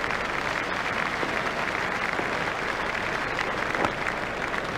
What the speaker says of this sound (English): The crowd are standing and applauding